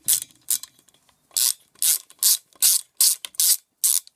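A screw is undone on a McCulloch strimmer with a ratcheting tool, producing a series of about nine close, crisp clicking bursts in an uneven rhythm, with brief quiet gaps between them.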